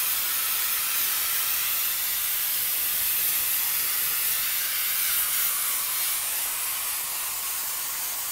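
Spray gun laying a wide fan of finish from about 16 to 18 inches away, a steady, even hiss that runs unbroken and fairly loud, with no voices over it.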